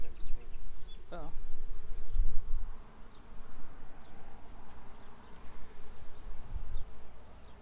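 Honeybees buzz steadily and closely throughout a beehive inspection, with soft knocks and handling noises over the hum.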